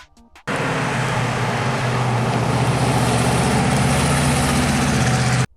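A fourth-generation Pontiac Firebird V8 idling close by, a steady deep rumble that starts abruptly and holds evenly for several seconds before cutting off, with no voices.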